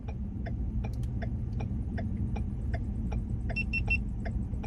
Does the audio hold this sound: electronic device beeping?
yes